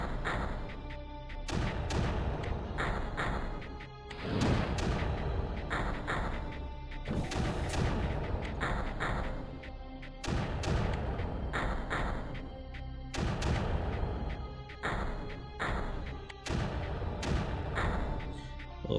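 Mortar fire in the strategy game Creeper World, a run of heavy booming thuds in uneven bursts over a dense, continuous rumbling battle backdrop, loud and without talk.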